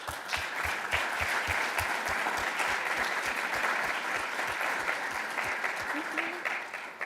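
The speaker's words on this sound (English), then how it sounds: "we first give applause to Laura" An audience at a symposium claps steadily throughout, the applause fairly even and moderately close, with a few sharper individual claps standing out and tapering slightly toward the end.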